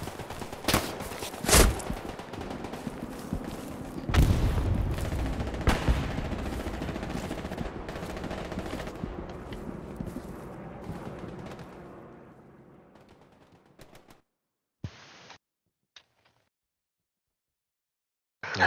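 Gunfire in the World War II shooter Hell Let Loose: sharp rifle cracks and bursts ring out over a dense battlefield din, fading toward the end into near silence broken by a few isolated shots.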